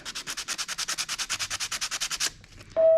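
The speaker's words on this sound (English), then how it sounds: "So I'm just going to start sanding that." Quick rhythmic back-and-forth scratching of sandpaper on a wooden cell phone stand, about twenty strokes, then a pause and a brief tonal hum.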